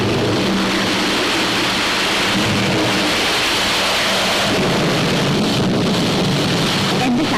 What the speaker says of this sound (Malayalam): മഴയും കാറ്റും കൂടി വരുന്നുണ്ട്